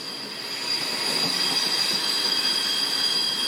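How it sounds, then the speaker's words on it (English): A train rolls in with a steady rumble and high, sustained metallic wheel squeal, loud and close, growing slightly in the first second. "into the station came what seemed like an empty train"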